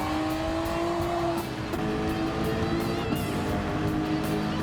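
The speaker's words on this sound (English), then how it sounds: "Now I'm driving the Sauber." A Sauber Group C race car in Gran Turismo 7 drives at speed, its engine a loud steady drone with shifting pitch and faint tire noise throughout, no voices.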